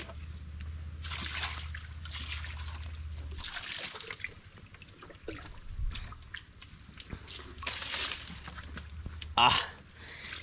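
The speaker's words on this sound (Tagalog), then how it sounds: "Talon daw sa farm ang tubig." Steady natural water flow from a farm waterfall, a continuous rushing wash running throughout, with people talking intermittently over it.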